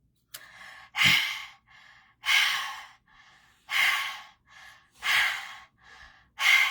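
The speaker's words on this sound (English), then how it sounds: "Just do some deep breathing, in and out, in and out." Slow, deep breathing for a detoxing breath exercise: a series of long audible inhales and sighing exhales, about five cycles in a steady rhythm, close and clear with no talking.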